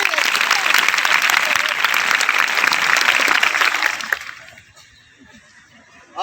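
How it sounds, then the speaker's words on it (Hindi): Students in a classroom clap together in a loud, dense burst of applause that lasts about four seconds, then trails off quickly into a quiet room. "ताली बजाओ इसके लिए।"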